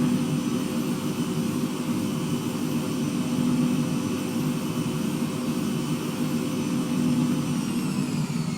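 An old, war-era airplane's engine drones steadily and loudly in flight on a trip from Victoria to Seattle, heard from inside as a constant heavy roar with no breaks.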